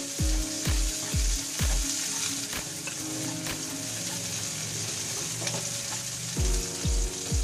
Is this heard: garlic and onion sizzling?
yes